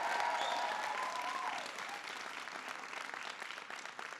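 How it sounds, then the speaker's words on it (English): Large crowd applauding at a Boston political rally for President Obama, sustained clapping with a brief cheer early on, then gradually thinning. "Give him a big round of applause."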